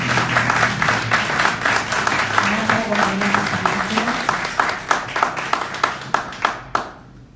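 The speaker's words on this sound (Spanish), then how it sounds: "Un aplauso para ellos." An audience at a literary event with writers claps steadily for the guests, the dense applause holding strong for several seconds before thinning to a few scattered claps and fading out.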